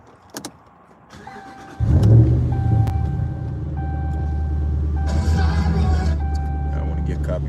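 A Ram truck's 5.7 Hemi V8 starts up with a heavy low rumble after a few faint knocks, then settles into a steady, loud engine drone as it drives.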